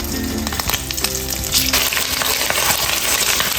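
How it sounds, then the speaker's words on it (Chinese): Potato and lotus root strips fry in hot oil in a wok, a loud close crackling sizzle with scattered pops that builds and stays steady, and no one speaks. "油热把洋芋条和莲藕条加一下， 炸到牙签能轻松扎进来就好了"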